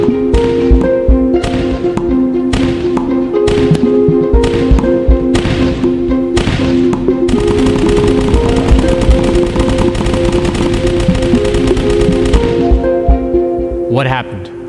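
Tennis balls fired in quick succession at a barrier in a classical-objects demonstration, giving a run of sharp, loud repeated impacts over a steady tonal music bed, with the hits packing tighter toward the middle.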